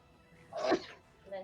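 A single close sneeze bursts out sharply and briefly, followed by a faint voice.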